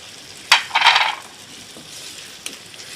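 Spices stirred in a hot pan while making mango kasundi, a spoon scraping and clinking against the metal with a brief soft sizzle, close and alone, followed by a quiet stretch and one faint tap.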